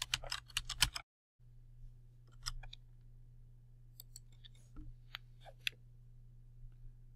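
Keys on a computer keyboard clatter in a quick burst, then come as sparse, scattered clicks over a low steady hum, nearby and quiet.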